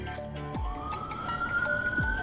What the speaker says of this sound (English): Oh, why they put the sirens on?